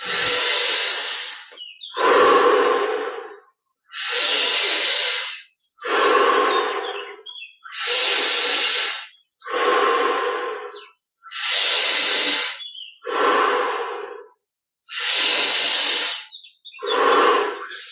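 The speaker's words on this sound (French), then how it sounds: "l'idée, c'est vraiment de prendre beaucoup d'air. On a encore 10 respirations pour saturer le corps en oxygène et en prana" Deep, forceful breaths during guided Yogoda meditation, about ten long inhale-exhale cycles in a steady rhythm, each a loud airy rush close to the microphone with short silent gaps between them.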